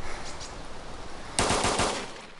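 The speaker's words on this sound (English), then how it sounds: "He got up and tried to shoot me again" Gunfire from an enemy player in a shooter game: a faint rattle of shots, then a sudden louder burst of rapid automatic fire that fades away.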